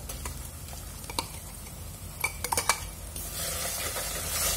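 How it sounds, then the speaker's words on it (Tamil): Ground gongura leaves being stirred into a tempering in a pan, with light ticking spoon taps and scraping against metal over a steady faint sizzle, no voices. "கீரையை சேர்த்து நல்லா மிக்ஸ் பண்ணி விட்டுக்கோங்க."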